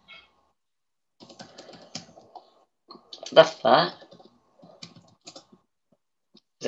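Scattered bursts of keyboard typing, close and light, with a louder cluster of clicks midway and brief speech mixed in among the keystrokes.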